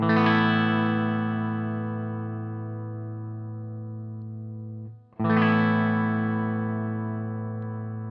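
A Garland Tyranos tube amp head with its bright switch set to the right position rings out a sustained distorted guitar chord that slowly fades, then is struck again for a second long, loud decaying chord.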